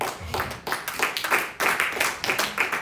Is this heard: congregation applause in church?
yes